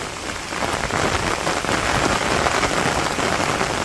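Steady rain pours down in a Bangladeshi village at night, a dense, even hiss of drops striking surfaces, close and loud throughout with no voices.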